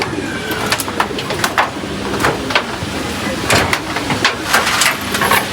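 Pigeons coo in a busy loft while their keeper gets feed ready, soft repeated calls scattered over steady background noise and bursts of brighter clatter.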